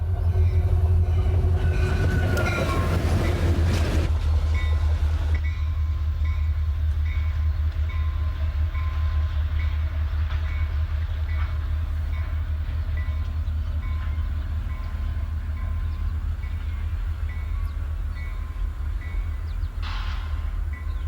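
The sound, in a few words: pusher locomotives passing on railway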